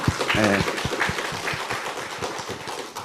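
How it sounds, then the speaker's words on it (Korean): A church congregation claps for children at a Sunday service, a steady patter of applause under a voice that talks over it from the start. "우리 어린이들 다시 한번 큰 박수 한번 보내주세요"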